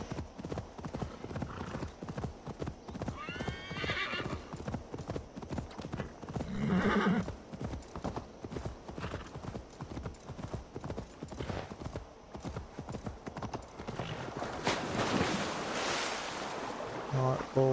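Horse hooves clip-clop steadily in Assassin's Creed Valhalla, a close, regular beat of hoofbeats with a whinny partway through and wave and water ambience behind.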